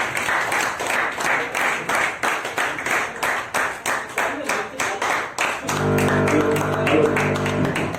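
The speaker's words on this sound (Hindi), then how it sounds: "तालियां बजाइए।" An audience claps in rhythmic, fairly loud bursts for around five seconds, then the clapping blends into a sustained tonal sound with music-like harmonics near the end.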